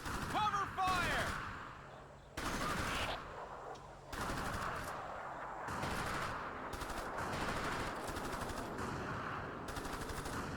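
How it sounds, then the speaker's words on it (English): Sustained automatic rifle fire in the Xbox game Ghost Recon 2: Summit Strike, loud rapid bursts that run almost continuously with brief gaps, and a shouted voice near the start. "Suppression fire!"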